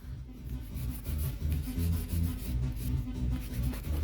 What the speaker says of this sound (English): I'm using a 240 grit file too, you guys.